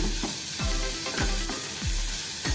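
Capsicum sizzles and fries in an oiled pan with spices, a steady close hiss broken by repeated rhythmic scrapes and thumps of a spatula stirring the vegetables.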